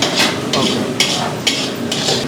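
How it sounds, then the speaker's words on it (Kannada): A ground tomato mixture for rasam fries in oil, with a steady hiss broken by rhythmic stirring strokes scraping the pan about twice a second. "ರುಬ್ಕೊಂಡಿರೋ ಟೊಮೆಟೊ ಮಿಶ್ರಣ ಏನಿದೆ ಇದಿಷ್ಟು ಚೆನ್ನಾಗೆ ಫ್ರೈ ಆಗಬೇಕು."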